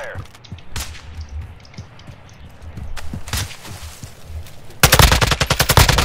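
Sniper gunfire in the shooter game DMZ. Sharp isolated cracks ring over a busy game ambience, then a dense, loud burst of rapid shots closes the passage.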